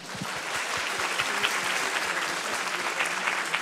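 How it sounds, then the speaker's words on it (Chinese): Sustained applause from a tech conference crowd thanking a series of lightning talk speakers, steady dense clapping from many hands throughout. "然后我们再一次以掌声谢谢我们今天十位精彩的 Lightning Show 讲者。"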